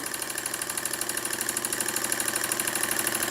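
An Empire 62 model steam engine runs steadily, its fast even chuffing beat close and continuous with a faint mechanical hum and no talk.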